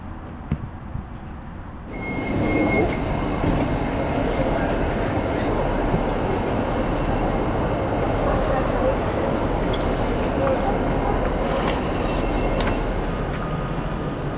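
A train at Corkerhill station in Glasgow starts up after a quiet moment, then a loud steady rumble and rattle of wheels and carriages carries on without letup.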